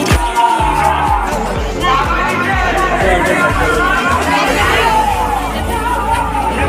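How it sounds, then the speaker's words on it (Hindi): A dense crowd babbles near the Iron Devi temple during Dussehra in Ara, many overlapping voices forming a loud, continuous hubbub throughout, close by and without pause. "बहुत भीड़ बा भाई।"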